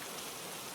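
Steady rain falls in a dense, even hiss of countless drops, soft and constant for the brief stretch, with no voices or other sounds on top.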